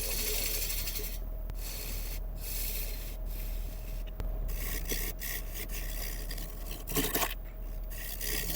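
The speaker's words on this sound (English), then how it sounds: "and then we can sand this bit" A turned wooden piece being sanded on the lathe, giving a steady close rubbing and rasping hiss that runs throughout, with a few brief breaks and small clunks.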